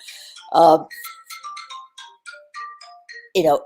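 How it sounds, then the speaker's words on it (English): A phone ringtone chirps in the background as a series of short, bright electronic tones repeating through the moment, with brief bursts of speech at the start and end. "that's my phone in the background"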